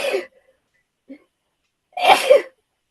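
A single sharp sneeze bursts out loud and close during a quilting and crafts session, following a brief stretch of near silence with only a faint intake of breath.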